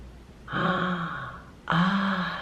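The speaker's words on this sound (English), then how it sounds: "Gasp." A woman gives two sharp, breathy gasps of surprise, the second louder and more voiced than the first, close to the microphone.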